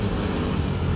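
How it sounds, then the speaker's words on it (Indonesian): A Honda Vario scooter engine on a mountain ride near Alishan: a loud, steady, close-up droning rumble with rushing noise throughout. "Suara motor Vario tuh."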